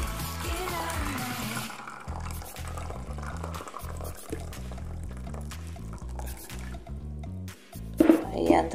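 Water pours into a baking pan holding a glutinous rice flan, a soft splashing trickle heard through several seconds of background music. It is followed by a brief clatter at the end.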